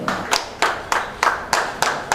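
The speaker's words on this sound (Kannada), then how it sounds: "ಜೋರಾದ ಚಪ್ಪಾಳೆ" Clapping at a home guards and Lions–Leo club event in Mangaluru, heard as a sharp, regular rhythm of loud claps about three per second, crisp and close, with nothing else around them.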